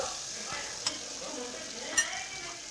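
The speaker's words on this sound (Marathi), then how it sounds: "इथे का टोमॅटो मी मस्त असा भाजून घेते" Tomato frying in a pan for a tempering while making thin spinach bhaji, with a soft steady sizzle throughout and two brief sharp clinks of a utensil against the pan, no talk.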